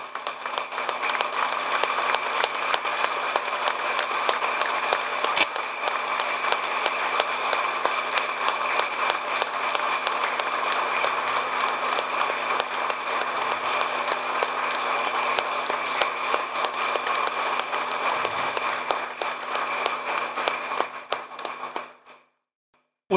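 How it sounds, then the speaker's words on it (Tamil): An audience standing and applauding at a memorial meeting, sustained dense clapping from a large crowd that holds steady for about twenty seconds before tapering off abruptly. "எழுந்து நின்று கைத்தட்டும்படி அன்போடு கேட்டுக்கொள்கிறோம்."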